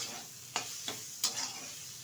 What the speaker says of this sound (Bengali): তো আমি ভাজার সাথে একটু নাড়ে চেড়ে নিচ্ছি পেঁয়াজটা।